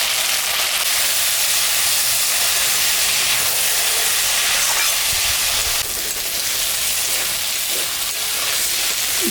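Okra frying in a pan with salt, turmeric and green chillies, giving a loud, steady hiss and sizzle that runs unbroken and close for the whole stretch, with no talking.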